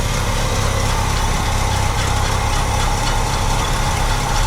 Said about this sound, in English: So it's idling, albeit not well, but that could be because we don't have vacuum advance.